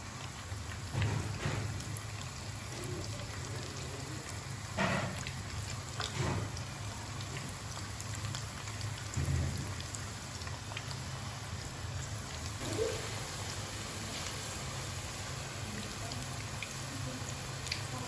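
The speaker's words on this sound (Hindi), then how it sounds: "तो हम इसको फ्राई करना स्टार्ट करते हैं" Onion pakoras sizzle in hot ghee, a steady crackling fry hiss with occasional louder spits and pops, close and continuous throughout.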